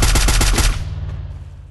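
Rapid burst of automatic gunfire in the Free Fire battle royale game, about seven loud close shots in quick rhythm over roughly 0.7 seconds, then a decaying echo tail with no talk.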